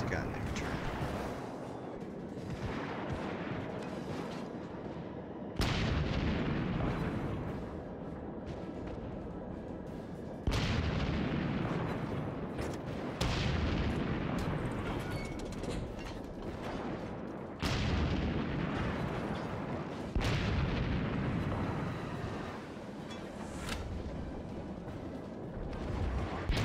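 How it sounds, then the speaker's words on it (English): Destroyer gun salvos in the naval battle game World of Warships, heavy booming shots repeating every few seconds over a continuous loud roar of battle. "The enemy destroyer dodges the torpedoes, but takes repeated fire from the Sampson's gun in return."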